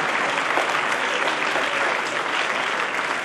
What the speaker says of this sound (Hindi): आपकी तालियां बराबर बढ़ती रहनी चाहिए, बढ़ती रहनी चाहिए और बढ़ती रहनी चाहिए।